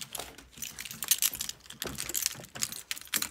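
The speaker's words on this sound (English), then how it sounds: "Gonna lock the door." Keys rattle and click in a door lock in a home, a close, quiet run of irregular metallic jingles and sharp taps over a few seconds.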